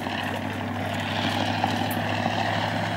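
A Fieseler Storch, a three-seat 1930s German liaison and medical evacuation monoplane, drones overhead with a steady propeller and engine hum, moderately loud and continuous, no talking.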